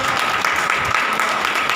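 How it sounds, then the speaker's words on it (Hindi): An audience claps at a Hindi Bible study gathering, a dense continuous burst of many hands for under two seconds. "ताली बजा के"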